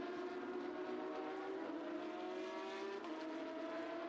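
A Porsche 911 Carrera Cup race car sweeps through at the Shanghai circuit, its engine a steady high-pitched howl with a slight pitch shift, loud and unbroken for the whole few seconds.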